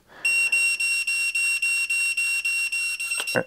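A radio-control transmitter's trim control gives a continuous electronic beeping tone pulsing rapidly in an even rhythm, close and fairly loud, ending with a short click.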